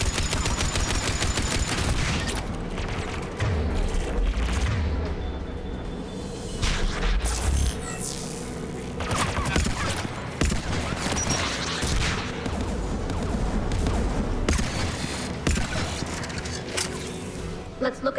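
Anti-aircraft guns hammer away in the Mass Effect 3 video game, dense continuous volleys of heavy gunfire with booms and whooshes layered over, a voice speaking now and then amid the din.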